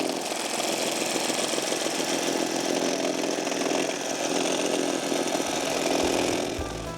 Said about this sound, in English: First job is mowing under fence lines.